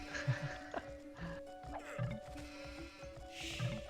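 Sheep bleat in a video game match amid a hum of game sound, with a few short wavering calls spread across the scene.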